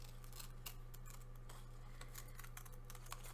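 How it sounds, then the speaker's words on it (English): Scissors snip through paper for a postcard-sized art-therapy collage, a steady run of close, crisp cuts with small rustles and no talk. "So now I've decided I'm going to go ahead and cut this out."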